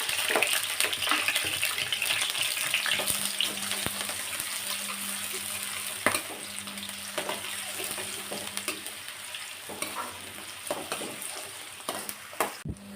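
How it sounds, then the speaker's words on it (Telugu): Onions frying in a pan for Nellore fish curry, a loud continuous sizzle close by with occasional clinks and stirring scrapes, a low steady hum running beneath and no talk. "అలానే ఆనియన్స్ కూడా వేసుకోవాలి"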